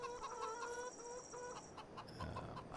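Chickens, a flock of young hens in the Family Farm video game on PS4, cluck steadily in a soft, continuous chatter of short repeated calls, low in level with no talk over them.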